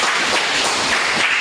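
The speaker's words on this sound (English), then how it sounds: "A big round of applause for Coleen" An audience claps for a guest at a Campaign for Liberty event, a brief dense burst of applause that stays loud and even throughout.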